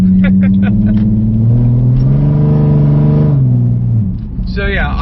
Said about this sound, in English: I'm just gonna enjoy the motor as it is right now